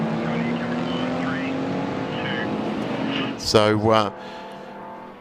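The Perkins Engineering red VL race car drones steadily under a commentator's voice, then roars past loudly in a brief surge before fading.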